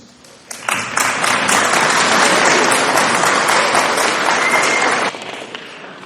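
An indoor audience at a school ceremony applauds parents and grandparents: loud, dense clapping bursts in suddenly, holds steady for several seconds, then drops off abruptly and trails away into a few scattered claps.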